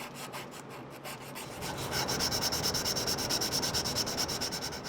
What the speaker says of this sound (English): Thin strips of sandpaper with duct tape on the back for strength work perfectly for softening the edges.